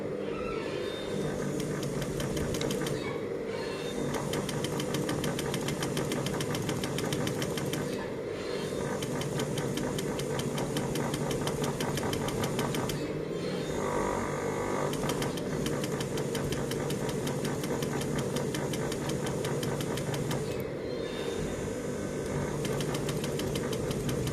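A sewing machine running a topstitched seam, a rapid mechanical whirring hum with fast needle clatter, steady and close for several seconds at a time and broken by a few short pauses, with no talking.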